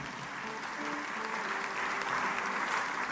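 A church congregation applauds in praise, a steady, dense wash of clapping from many hands that stays even throughout and sounds moderately distant.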